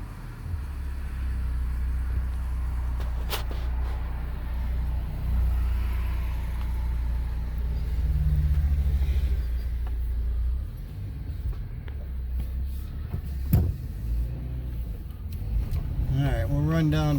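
A Subaru with a grinding noise driving on a test ride, heard from inside the cabin as a steady low road rumble and engine drone with a few bumps and clunks.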